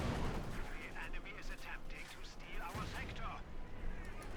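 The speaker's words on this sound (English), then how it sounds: "Panzer, they're hitting a mine, suffering severe casualties" A Panzer IV strikes a mine in the Company of Heroes 2 strategy game, and sharp explosive blasts and gunfire-like bangs burst out amid battle noise, with a voice talking over them.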